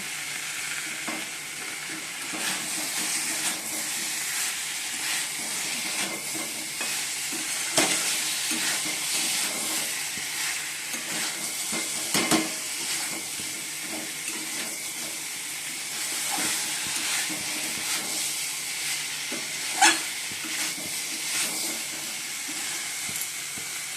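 Small-cut potatoes frying in a pan give a steady sizzle and hiss, with scattered scrapes and clinks of stirring over it, close and fairly quiet.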